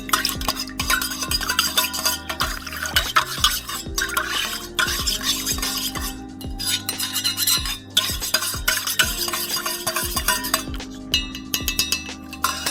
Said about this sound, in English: Good old mixing.